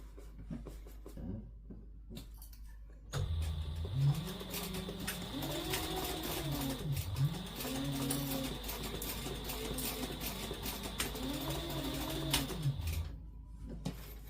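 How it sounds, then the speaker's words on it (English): A sewing machine stitches a bag seam at a 3/8-inch allowance, its motor whirring up and slowing down in repeated steady runs, close and continuous, with no talk. "And then you're going to sew across there at 3/8 of an inch seam allowance."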